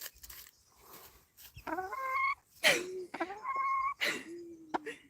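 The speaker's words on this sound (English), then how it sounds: "This is the most talkative chicken." A talkative hen clucks and squawks close by in a series of rising, drawn-out calls and short bursts, with brief pauses between them.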